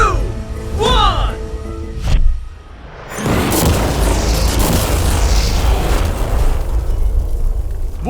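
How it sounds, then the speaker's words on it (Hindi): An ordinary car with mannequin passengers inside is blown up: voices come first, then a massive explosion that swells into a long, loud, rumbling roar. "चलो उड़ाते हैं एक नॉर्मल कार को और देखते हैं कि पैसेंजर्स बच पाते हैं या नहीं"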